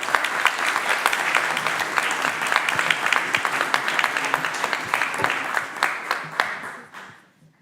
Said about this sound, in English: Please, big applause to the panelists.